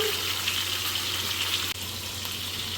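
Fish sizzling steadily in a hot pan of oil while cooking an Andhra-style fish curry, a close, continuous hiss with a brief dip partway through.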